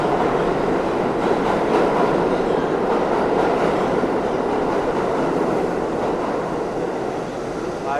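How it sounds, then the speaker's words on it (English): A downtown 6 local subway train in the Canal Street station in Manhattan's Chinatown, a loud, close, continuous rumble and rattle of cars and wheels that holds steady throughout and eases only slightly at the end. "I just got off a downtown 6 local train at the Canal Street station."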